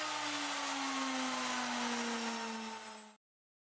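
High-speed CNC spindle motor running alone at its lowest setting of 8000 rpm, a steady whine with a bright high tone that sags slightly in pitch as it winds down, then cuts to silence after about three seconds.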